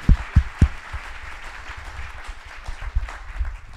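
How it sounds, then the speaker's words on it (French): Audience at a French professional innovation conference applauding a panel of five speakers; scattered claps stand out briefly at the start, then settle into a soft, thin round of applause in a hall. "Je pense qu'on peut les applaudir une première fois."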